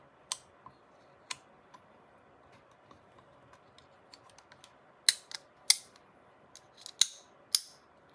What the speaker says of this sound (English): lots of clicks, but it all clicked in